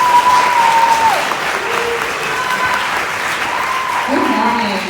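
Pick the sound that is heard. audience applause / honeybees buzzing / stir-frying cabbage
audience applause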